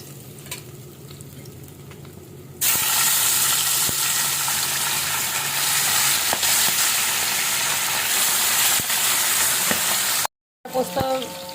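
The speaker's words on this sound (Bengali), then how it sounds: "এইভাবে সবগুলো মাছ ভেজে নিব।" Pabda fish hits hot oil and fries with a loud, steady crackling sizzle after a quiet start. The sizzle continues unbroken for several seconds, then a short silence and a few clattering handling sounds follow.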